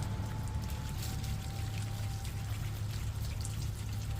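A garden hose rinses soap off a Cadillac, water pouring and splashing in a steady, continuous spray, with no talk.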